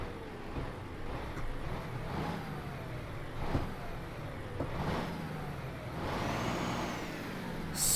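Simulated engine start of a 1987 Volvo F16 truck in Euro Truck Simulator 2, a loud, continuous diesel rumble with a swelling rev and a sharp air-brake hiss at the very end, no talking.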